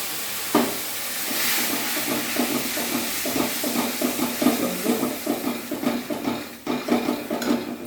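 A small amount of water goes into spiced curry gravy in a cooking pot. Steady sizzling and hissing run under busy stirring and scraping, with clinks of a metal utensil against the pan throughout.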